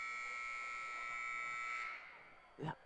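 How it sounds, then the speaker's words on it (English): A loud, sustained electronic buzzer at a high school basketball game drones steadily for about two seconds and then cuts off, with crowd noise and a voice carrying on underneath. "As the buzzer rings, quite loud."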